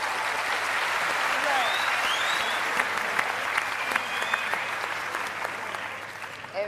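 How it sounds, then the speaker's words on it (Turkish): Studio audience on the Turkish TV singing competition O Ses Türkiye breaks into sustained, dense applause that fills the room at steady loudness, with voices and a few whoops faintly mixed in. "buradaki o siyah ya, giyen adamlara da bir alkış rica ediyorum gerçekten"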